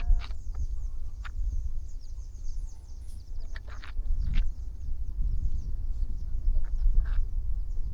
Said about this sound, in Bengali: শুধু পাখি আর পাখি আকাশে।